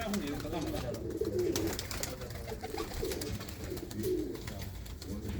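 Golden pigeons coo in low repeated phrases inside a coop, fairly quiet, with a voice talking over them.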